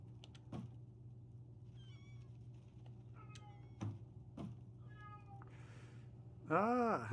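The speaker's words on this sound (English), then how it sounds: "Is that my cat or is that your cat?" A cat meows near the end with a drawn-out, rising and falling call, preceded by faint chirps, clicks and thumps in a quiet room.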